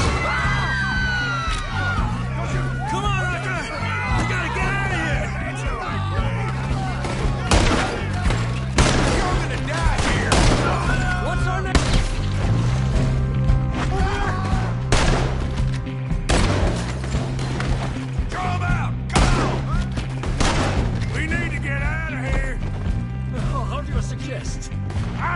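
Repeated bursts and single cracks of gunfire echo through a PS4 action game, scattered irregularly over half a minute beneath character voices and other game sounds.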